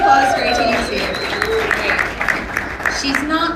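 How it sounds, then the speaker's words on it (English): Round of applause from an audience at a business forum in an echoey hall in Atlanta, steady dense clapping throughout with voices talking over it. "Round of applause for ATDC."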